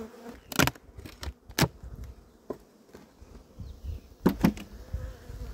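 Bees buzz around an opened beehive on a spring inspection, a low hum broken by several sharp, loud passes close by amid knocks and handling of the hive.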